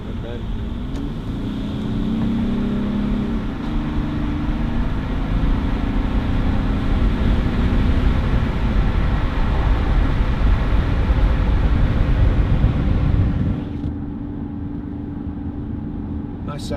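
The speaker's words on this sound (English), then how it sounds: "nice sounding engine for a diesel" Steady, full engine and road drone comes from a Jaguar XF 2.7 TD diesel saloon driving on a wet road, holding constant for a long stretch before dropping noticeably quieter near the end.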